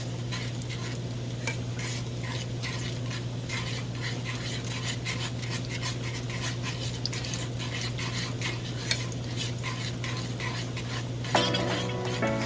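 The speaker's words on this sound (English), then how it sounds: "let me stir this cheese" Cheese sauce for asada fries stirred in a pot, a steady run of soft scraping and clinking utensil strokes against metal over a constant low hum, close and alone.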